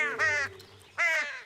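Two crows caw in a cartoon, two loud harsh calls separated by a short pause, close and clear with nothing else over them.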